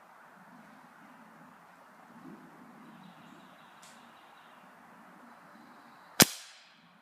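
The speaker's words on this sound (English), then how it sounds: "Now it's time for the final shot with the Gamo Hunter." Gamo Hunter .177 air rifle fired once: a single sharp, loud crack with a short ringing tail, near the end after a quiet stretch of low outdoor background noise.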